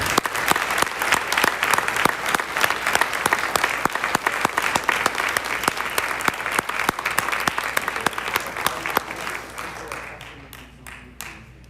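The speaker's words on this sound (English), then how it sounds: "Let's give them one more round of applause." Sustained applause from a live crowd at a school gathering, steady dense clapping for about ten seconds that thins out and fades into scattered claps at the end, with no talk over it.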